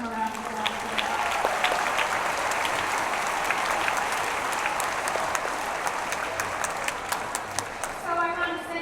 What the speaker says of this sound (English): we can give them a round of applause for that